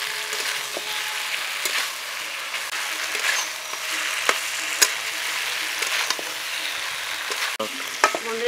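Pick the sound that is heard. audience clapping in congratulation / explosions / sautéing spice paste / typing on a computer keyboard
sautéing spice paste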